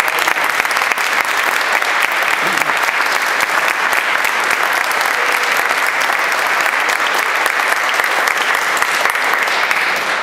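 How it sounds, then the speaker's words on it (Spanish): A church congregation gives loud, sustained applause at a 15th birthday celebration mass, dense clapping filling the whole stretch evenly. "Felicidades por tus 15 años y le damos un fuerte aplauso."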